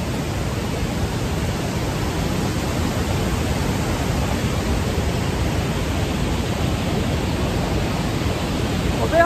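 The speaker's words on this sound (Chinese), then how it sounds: "我背后的就是莱茵瀑布的左半部分。" The left half of Rhine Falls in Switzerland pours in a dense, unbroken roar, a steady broadband rush of falling water that holds an even level throughout.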